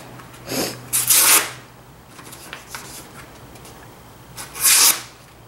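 Strider SNG knife with an S30V blade slicing through cardboard, three short, loud rasping cuts, two close together near the start and one more after a quiet pause.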